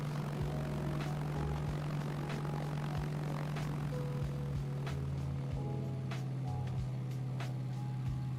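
A propeller aircraft in Arma 3 drones steadily with a constant engine hum and a low tonal whine, accompanied by faint ticks and clicks from the game, with no voices.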